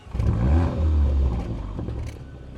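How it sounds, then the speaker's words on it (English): A Porsche Macan fires up from cold in sport mode with its exhaust flaps open: a sharp starter whir, a loud bark that flares and settles, then a rougher, quieter idle, all close by with no talk. "start the car. This will open the flaps on the exhaust, and your cold starts will be a lot more exciting"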